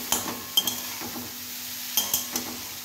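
Finely chopped dill greens are stirred into fried onion and chilli in a pan, giving a few sharp scrapes and clinks of the spoon against the metal over a faint sizzle, with no talking.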